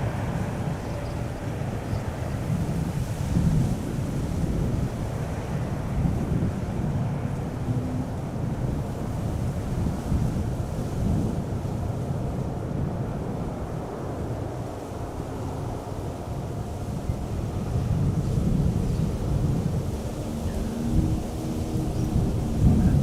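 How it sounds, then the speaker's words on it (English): A distant landing airliner's thrust reversers roar steadily at Amsterdam Schiphol Airport, deep and broad, rising and falling slightly like wind, with no voices. "Should start hearing those reversers soon."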